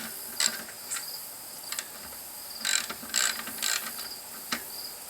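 A 15 mm wrench backs a bike axle nut off counterclockwise, making soft ratcheting clicks in short irregular bursts, close and fairly quiet against a faint steady background, with no voices.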